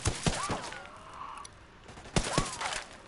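Gunfire during a milsim patrol, a couple of sharp bursts near the start and again after a pause, fairly close, with faint outdoor noise between.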